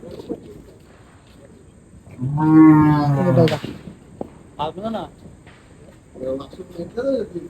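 A cow lets out a long, loud low moo, followed by softer lowing calls, with faint insect chirps in a quiet shed.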